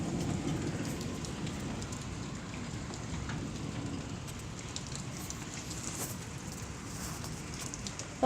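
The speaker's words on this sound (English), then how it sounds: "Yeah, it's raining again." Steady heavy rain falls during a storm in Springfield, Missouri, with small hail, a constant close wash of drops pattering on surfaces that holds an even level throughout, with no voices.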